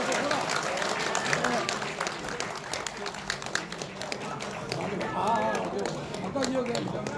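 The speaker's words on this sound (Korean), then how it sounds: "뜨거운 박수 부탁드립니다." A live audience applauds a guest at a testimony event, with dense, loud clapping running throughout and voices talking over it.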